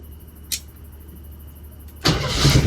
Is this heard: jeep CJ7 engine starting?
yes